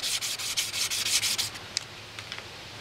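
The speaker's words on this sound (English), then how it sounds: "I've got some 600 wet sandpaper here. And using a bit of WD-40 on it." Sanding a nicked crankshaft by hand with 600-grit wet sandpaper and WD-40, a close rhythmic scraping rasp in quick back-and-forth strokes that slows and thins to a few scattered rubs toward the end, with no talking.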